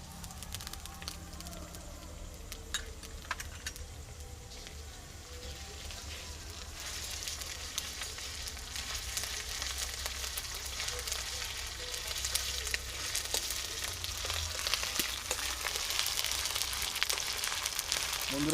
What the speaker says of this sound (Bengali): বন্ধুরা পেঁয়াজটা দেখুন হালকা লাল লাল ভাজা হয়ে এসছে